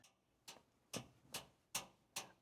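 A sharp tick repeats at a steady, even pace, about every half second, six clicks in all, crisp and moderately close in a quiet room, with no one talking.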